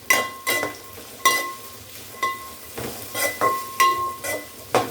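Prawns frying in oil in a pan while being stirred, with repeated sharp clinks and scrapes of a utensil against the pan in an irregular rhythm over a faint sizzle, close and fairly loud.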